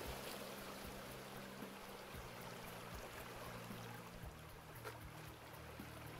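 Running water in the Gold Rush video game as a small hose is dropped in, a soft steady trickle and flow with a low hum underneath, quiet and continuous.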